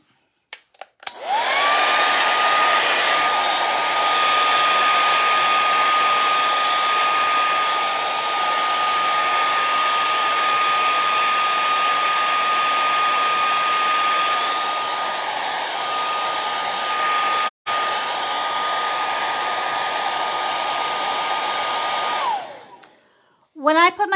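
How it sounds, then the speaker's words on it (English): A hair dryer drying wet leaves blows with a steady, loud whirring hum for about twenty seconds, briefly cut once, then switches off near the end. "I'm going to hit it with a blow dryer"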